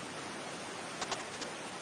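A steady, even white-noise-like hiss from looped footage of a chemical spill in water fills the whole stretch, with a few faint brief rustling flickers partway through and no voices.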